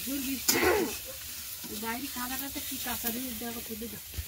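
Food frying in a pan in a home kitchen, a steady soft sizzle running beneath a voice that carries on throughout.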